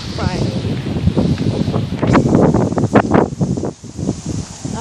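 Wind gusting outdoors on a nature walk, buffeting the microphone with rumbling bursts and rustling, while a person talks over it.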